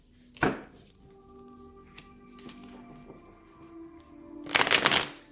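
Tarot cards being shuffled during a reading, heard as two loud riffling bursts at the start and end with quieter soft card handling between them, close by and alone.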